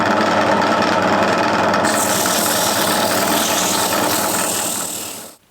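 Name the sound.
wood lathe spinning up for bowl turning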